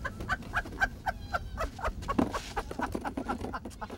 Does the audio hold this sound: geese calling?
yes